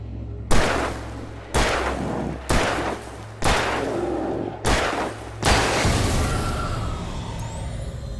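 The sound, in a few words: gunshots in the video game Alan Wake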